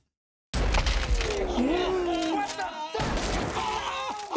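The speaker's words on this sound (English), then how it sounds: "He keeps shooting the guy." Gunshots from the film Django Unchained, a few sharp bursts amid film dialogue and music, with a clear report near the start and another around the three-second mark, fairly loud in the mix.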